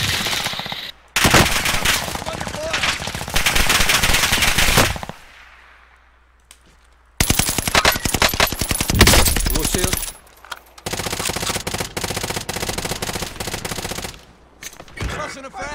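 Gunfire rattles in long automatic bursts during a video game match on the Caldera map, loud and close, with brief quiet gaps between the volleys.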